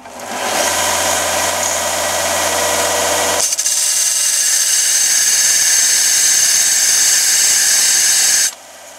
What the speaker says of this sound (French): l'idée c'est de mettre la pièce sur une perceuse